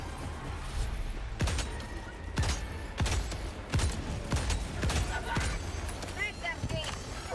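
Recoilless rifle fired in a video game: a series of sharp, loud shots at a steady pace, each about two-thirds of a second apart, over a busy rumbling game background.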